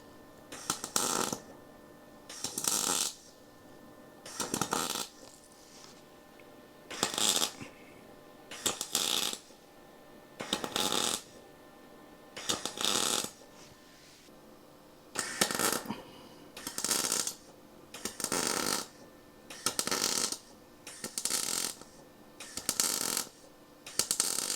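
Arc welding with a gas-bottle welding machine, repeated bursts of loud crackling and hissing lasting about a second each with short pauses between, close and regular throughout.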